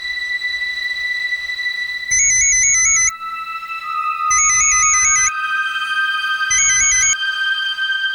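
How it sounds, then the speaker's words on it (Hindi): A phone call rings in a Hindi crime drama episode, loud and electronic: a steady synthetic tone broken by three repeating bursts of a warbling ringtone pattern, with no speech over it. "अखिलेश को फोन लगा के देखिए ना, शायद कुछ पता चले"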